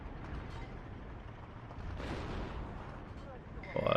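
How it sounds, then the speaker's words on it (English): Artillery barrage firing in the World War II strategy game Steel Division 2, heard as a dense, continuous rumble of distant booms that swells around the middle and stays steady, with a sharper burst right at the end. "Artillery away."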